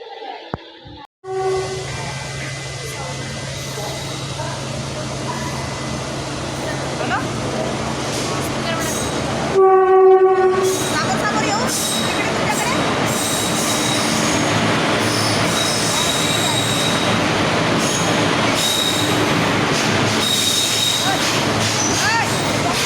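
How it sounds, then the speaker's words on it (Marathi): Train at Gondia railway station in India, with loud sustained rumble and screeching wheel squeal throughout, a brief sharp horn-like tone near the middle, and people talking under the noise. "तो ये है गोंदिया स्टेशन"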